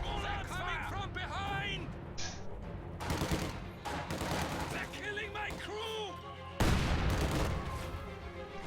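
Machine-gun bursts from a Maxim gun in a World War era strategy game, mixed with explosions and layered battle noise that runs under continuous commentary throughout.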